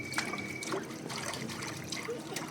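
A small child splashing and swimming in water in a bath tub at home, with gentle trickling and lapping close by at a steady level.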